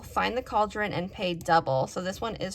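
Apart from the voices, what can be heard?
No distinct noise like a dog, phone or traffic.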